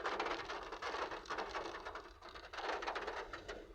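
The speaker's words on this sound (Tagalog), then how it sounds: "Tigil na naman ang ulan. Tapos babagsak na naman ang bigla." Steady rain patters down on a surface, a dense broadband hiss with scattered drop impacts, continuous and fairly close throughout.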